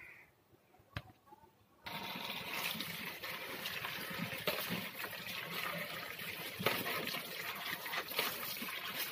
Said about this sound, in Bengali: ওটাকে ধুয়ে নেব।